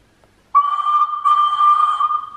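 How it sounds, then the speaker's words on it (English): Hornby HM7000 model train sound decoder sounding a whistle: after a short silence a single sustained, steady electronic whistle tone that swells slightly partway through and runs to the end, no voices. "there's your first whistle"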